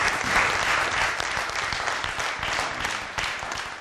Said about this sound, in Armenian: Ես ուզում եմ ծափահարենք մեր ազատամարտիկ